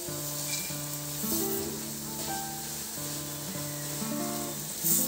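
Ghee sizzles in a pan of sesame seed laddu mixture, a steady, close frying hiss running throughout beneath background music.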